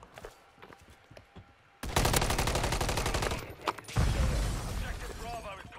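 Loud rattling automatic gunfire in Call of Duty: Modern Warfare 3 erupts after a quieter start, with dense bursts and mechanical clatter continuing to the end.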